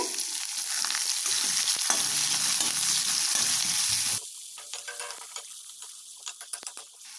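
Finely chopped onion frying in a pan for paneer fried rice, a loud steady sizzle that drops to a quieter crackle with scattered pops partway through, no voices.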